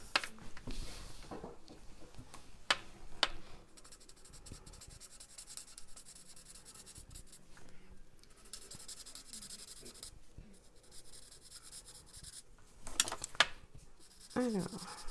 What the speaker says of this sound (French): un peu de coloriage pour détendre